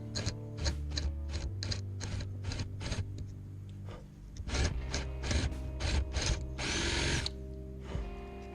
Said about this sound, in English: going from the front with the 10 and 8 mil drill bits